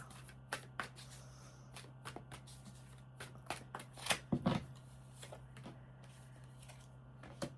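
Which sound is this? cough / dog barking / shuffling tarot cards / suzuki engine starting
shuffling tarot cards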